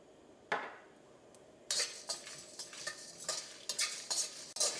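Kasuri methi is added to kadai masala spices roasting in a pan, with faint scraping and stirring clatter, a few soft metallic taps and light rustling, quiet and close.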